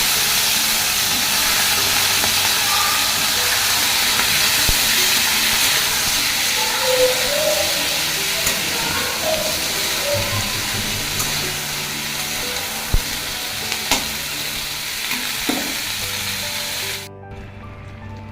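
Potatoes, drumsticks and eggplant fry in a pan for a Bengali shukto, giving a steady loud sizzle and hiss with faint scrapes of stirring throughout, ending abruptly.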